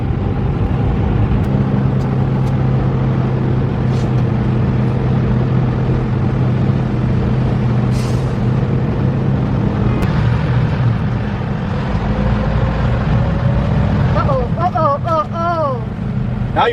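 Road traffic rolls past an 18-wheeler truck on tight Los Angeles, California roads, a constant close rumble of engines and tires with wind noise, while voices talk over it.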